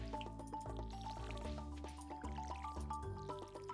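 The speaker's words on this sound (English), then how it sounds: "so I'll start by watering them." Crops are watered with a watering can in the Stardew Valley farming game, a soft trickle of splashes and drips repeating under gentle background music.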